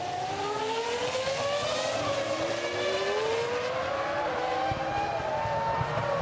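Formula 1 cars from the 2005 season racing, Jarno Trulli's car passing Rubens Barrichello's Ferrari; a steady, loud high-pitched engine whine with gliding pitch sweeps runs throughout, with no talk.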